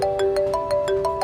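Phone ringtone announcing an incoming call, a loud close melodic pattern of repeated chiming tones in a steady rhythm.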